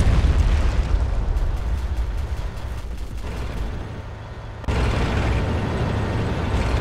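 A loud rocket explosion in a modern war video game set in a Russian invasion of Ukraine, heard as a sustained roaring boom and rumble that surges again partway through.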